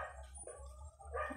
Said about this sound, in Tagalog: Pasensya naman sa mga asong maiingay. Ang daming aso dito sa paligid namin.